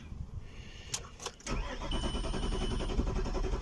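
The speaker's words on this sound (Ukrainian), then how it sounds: "Заводиться, глохне." A hot VW 2.5 TDI turbodiesel cranks with a few sharp starter bursts, then catches and runs with a steady, rough close diesel clatter.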